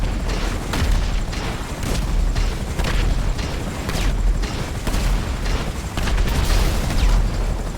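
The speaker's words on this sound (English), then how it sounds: "It took over 30 missiles to destroy the Halftrack." A dense, unbroken barrage of loud missile explosions pounds a Halftrack vehicle in a video game, booming blasts overlapping one after another with mechanical rattles underneath.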